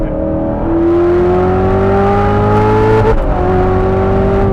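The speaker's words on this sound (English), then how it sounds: "Listening to the engine going up, down, that's one of the great treats." A 2019 Chevrolet Corvette ZR1 engine drones loud and close, its pitch climbing steadily, then dropping sharply at a gear change before pulling upward again, with no voices over it.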